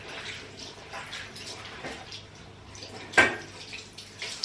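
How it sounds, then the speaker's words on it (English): A tap runs during household cleaning, giving a steady, soft, hissing water flow close by, with light splashing and one sharp knock near the end. "I basically use the tap just to get rid of the majority of"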